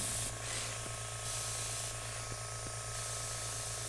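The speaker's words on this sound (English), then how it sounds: "I've also got the airbrush a little bit away from what I'm doing" An airbrush spraying acrylic paint, held a little away from the surface: a steady close hiss running throughout, swelling and easing slightly as spraying pauses and resumes.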